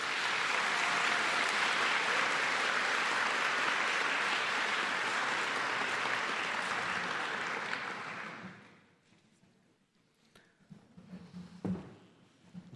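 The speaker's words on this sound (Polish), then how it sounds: "Gorące brawa, oto osoby wyróżnione." A large audience at a 2006 university graduation ceremony applauds warmly and continuously for distinguished graduates, then the clapping dies away into a quiet hall with a few scattered knocks.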